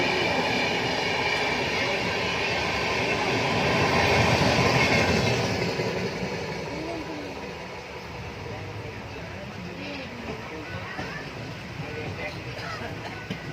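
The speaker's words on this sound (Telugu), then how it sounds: "ఇంకా వేరే ట్రైన్ కూడా అక్కడ పట్టాల మీద వెళ్తుంది, ట్రాక్ మీద, రైల్వే ట్రాక్ మీద అక్కడ కూడా వెళ్తుంది పక్కన" Train running along a railway track through farm fields, a steady rumbling roar that swells then eases into softer clatter, heard continuously with voices talking over it.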